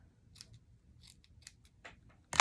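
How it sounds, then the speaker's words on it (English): Scissors cutting paper for a handmade card, several crisp snips spaced unevenly up close and then a sharper, louder crunch at the end, with no one speaking. "Okay, so I'm going to cut this"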